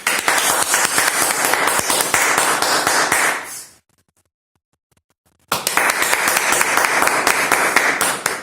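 Hands clap rapidly and loudly nearby to set off a robotic arm's sound sensor, two bursts of brisk applause-like clapping split by a couple of seconds of silence.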